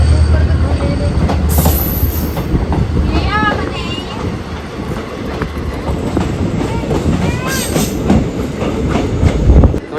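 A train rumbles into a main station on the Firozpur–Bathinda route in Punjab, clattering wheels and high squealing brakes, loud and close, while people talk over it.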